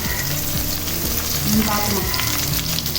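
Beans, carrot and cabbage stir-fry in oil for egg noodles, making a loud, dense, continuous sizzle with stirring scrapes and light clatter close at hand, and no one speaking.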